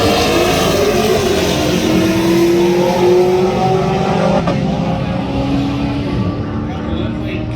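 Drag racing cars, an Infiniti against a Chevelle, launch and accelerate down a drag strip at a street car takeover event, a loud sustained engine drone rising in pitch with a faint voice in the background.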